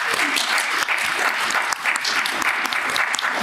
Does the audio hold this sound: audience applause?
yes